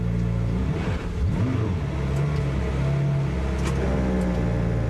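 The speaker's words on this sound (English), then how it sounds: "Finds first gear and then pulls off." FIA GT Series race car at Navarra in Spain pulling away down the pit lane, heard as a loud, low engine note that revs up and holds steady at close range.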